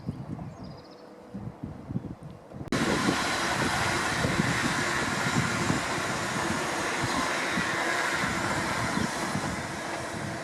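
A London train near Wembley passes close by, starting with rumbling clatter and then abruptly swelling into a loud, sustained roaring wash of wheel and rail noise that holds steady to the end.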